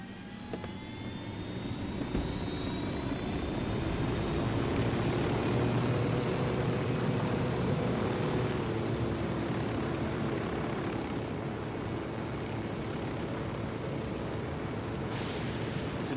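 A drone in the video game Ghost Recon Wildlands hovers with a steady, rising whine and airy rotor hum, moderately loud and unbroken throughout, with no talking.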